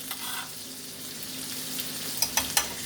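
Chopped garlic and Thai red peppers hit a hot pan and sizzle steadily, with a few sharper crackling bursts near the end; no voices.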